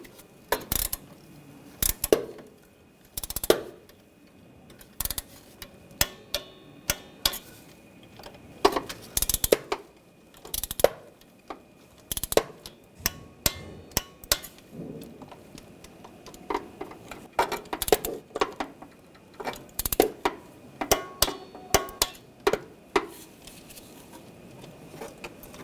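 A ratchet wrench torques starter bolts on a 2004-2012 Chevrolet Colorado 3.7L, giving irregular sharp clicks and metallic ticks in short bursts throughout, close and fairly quiet, with no talk.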